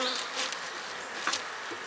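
A steady honey bee buzz hums throughout, with a few brief louder swells near the middle, like bees close to the microphone.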